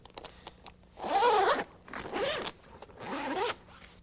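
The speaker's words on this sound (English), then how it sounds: "Release the Velcro flap and start to unzip them from the rear." Zipper teeth rasp open on a Jeep Wrangler TJ soft top side window, heard as three separate pulls of about half a second each, close up and fairly quiet, with no voices.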